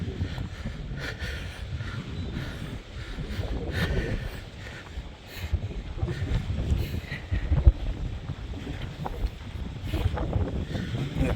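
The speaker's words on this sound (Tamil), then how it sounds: "காற்று அடிக்கிறது" Wind gusts across an open beach where fishermen catch fish beside their boats, a continuous loud rumbling roar that swells and buffets the microphone throughout.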